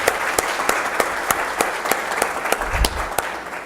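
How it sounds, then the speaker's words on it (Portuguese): An audience at a national forum of school directors applauds. The clapping is steady and moderately loud, with sharp individual claps standing out, and there is a brief low rumble partway through. "presidida pelo professor Evandro Neiva, para quem eu peço uma salva de palmas"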